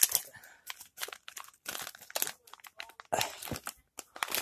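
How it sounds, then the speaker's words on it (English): Close paper crinkling and tearing as a Christmas present is unwrapped, in irregular bursts of crumpling and ripping with short pauses between. "I'm gonna open up this Christmas present on video"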